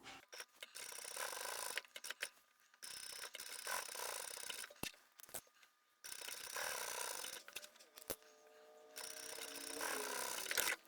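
A sewing machine stitches down the folded fabric edges of a braided-rope-handled market bag, running in several bursts of mechanical whirring and rattling separated by short pauses, close up with no voices.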